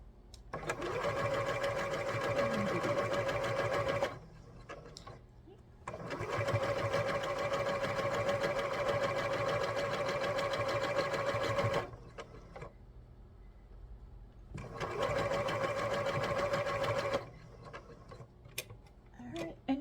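A sewing machine stitches quilt block pieces for a Bargello top, running in three long steady bursts of fast rhythmic whirring and ticking, close and clear, separated by brief pauses with faint handling sounds.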